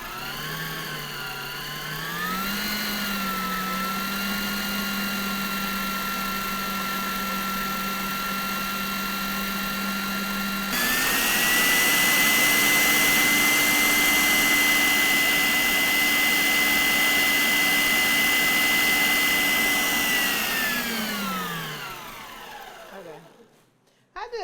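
An Aicok 5-quart stand mixer creams batter: a steady motor whine that steps up to a higher, louder pitch at high speed, holds there, then winds down and stops. No voices.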